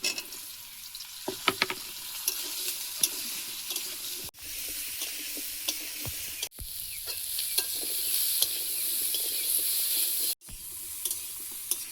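Potatoes and pointed gourd frying in a pan with turmeric and salt, a close sizzle with intermittent spatula scrapes and clinks, and a few brief pauses in the sound.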